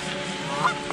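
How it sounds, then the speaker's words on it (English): A goose honks once at a campground pond in the Catskills, a short, somewhat distant call over a soft outdoor hush. "Beautiful goose out there singing for us."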